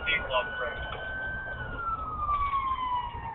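A police car siren wails steadily and loudly during a pursuit of a suspect's truck, as the patrol car lines up a PIT maneuver in traffic. The tone glides slowly downward over rumbling road noise.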